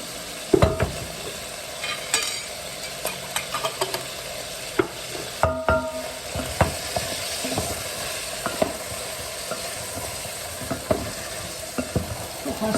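Vegetables sizzle steadily in a pan as they are sautéed with a spoonful of tomato paste. A constant close hiss runs under repeated scraping and stirring knocks, with no talk.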